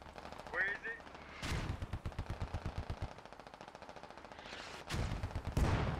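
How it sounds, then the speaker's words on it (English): Mortar fire in the video game Squad comes as a rapid rumbling barrage of thuds, followed later by heavier, sharper blasts, all fairly distant and muffled, with brief voice chatter early on. "Ooh, mortars doing some damage."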